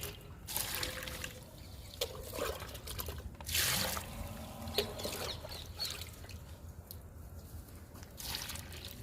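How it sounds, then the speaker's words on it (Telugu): Liquid fertilizer poured onto pomegranate plants outdoors, soft trickling and splashing of liquid onto soil in uneven bursts, with faint birds and a distant rooster in the background. "దానిమ్మ మొక్కలకు కూడా ఇచ్చేద్దాము లిక్విడ్ని"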